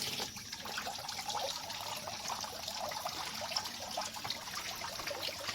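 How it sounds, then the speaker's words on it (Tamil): Water fills a tank at a guppy fish farm, rushing and trickling steadily through a pipe, fairly quiet and continuous, with no talking. "இதை ஆன் பண்ணி விட்டேன்னா ஆட்டோமேட்டிக்காக தண்ணி உள்ளே ஃபில் ஆகிடும்"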